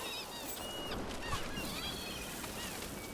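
Birds honk on a beach in Dragon Age: The Veilguard, with repeated goose-like calls overlapping at moderate distance over soft surf-like background noise.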